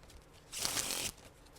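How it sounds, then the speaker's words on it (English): A deck of playing cards riffled in a perfect shuffle during a magic performance, one short crisp burst of rapid fluttering card noise lasting about half a second, close and fairly quiet against near silence. "3 perfect shuffles"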